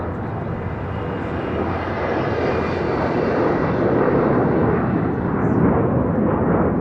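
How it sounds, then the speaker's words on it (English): A United Airlines 737-900ER departing LAX for Denver gives off a steady, heavy jet roar during takeoff that swells gradually and stays loud and broad throughout, with no voices. "This is United Airlines 529 taking off to Denver"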